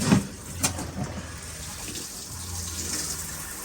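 Water runs steadily from the hot side of a truck camper faucet in an Arctic Fox 1150 camper during winterizing, a continuous moderate gush after a couple of brief knocks at the start.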